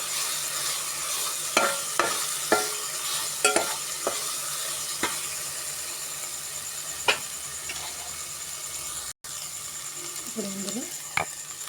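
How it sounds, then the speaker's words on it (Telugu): Ginger garlic paste fries in a pan for a tamarind fish curry, a steady low sizzle with scattered sharp scrapes of a spoon against the pan and a brief dropout near the end. "పచ్చి వాసన పోయే వరకు మన అల్లం వెల్లుల్లి పేస్ట్ వేయించుకోవాలి"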